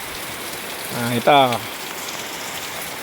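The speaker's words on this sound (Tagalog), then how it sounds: "Ayan, ang lakas ng ulan buti nakasilong tayo rito" Heavy rain pours at Pio Duran port in Albay, heard from under a shelter roof. It makes a steady, dense hiss throughout, and someone briefly speaks over it.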